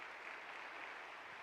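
Congregation applauding during a Spanish-language church service, a short, even burst of many hands clapping, soft and somewhat distant, with no voices on top.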